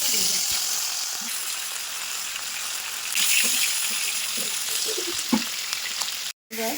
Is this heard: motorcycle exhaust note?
no